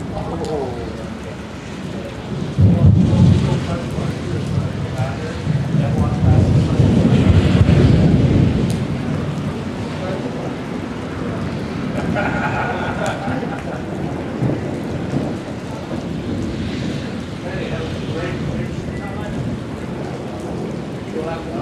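A thunderstorm over Oklahoma City: steady rain with a deep, rolling rumble of thunder in the first half that fades into a continuous wash, and voices faintly heard beneath it.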